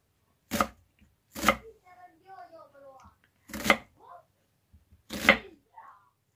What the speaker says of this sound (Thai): หัวใหญ่นะคะหั่นเป็นลูกเต๋าเนาะ